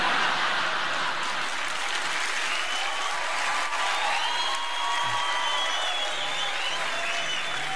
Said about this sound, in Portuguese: é uma torcida organizada do Flamengo que tem aqui no camelódromo